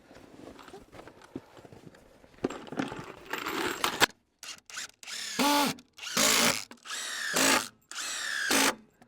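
A power drill drives screws into a door hinge in short, loud, close bursts, about five whirring runs with brief pauses between them. Quieter handling noises and clinks come before the bursts.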